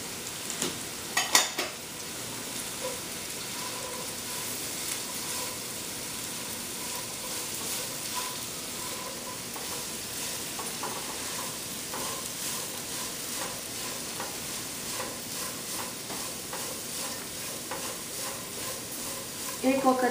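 Onion, carrot and cabbage stir-frying for Chinese rice, a steady close sizzle throughout with occasional utensil clinks and scrapes.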